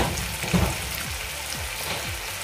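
Ten garlic cloves, half an inch of ginger and coriander with its stems fry in hot oil, giving a soft, continuous sizzle and crackle with a few faint stirring scrapes.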